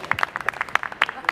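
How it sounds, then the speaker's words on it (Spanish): Scattered hand clapping breaks out for the birthday girl at a family celebration with a mariachi band, a brief, moderate burst of sharp, uneven claps. "Y ese aplauso bien fuerte para ella."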